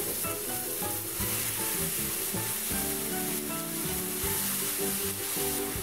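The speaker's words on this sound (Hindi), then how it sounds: "अब इसमें हम ये बैंगन भी डाल देंगे।" Eggplant tossed into garlic that is already sizzling in a pan for baingan raita, giving a loud, continuous frying sizzle with stirring clatter running the whole time and no talking.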